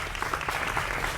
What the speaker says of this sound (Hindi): जोरदार तालियों के साथ स्वागत करिए